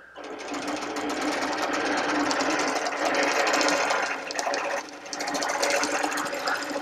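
A sewing machine runs loud and close while machine-basting a quilt in a long meander, a steady whirring drive with one brief slowdown near the end.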